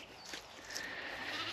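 Sheep bleat on a farm, a few faint, wavering calls over a quiet, steady background, with no talking.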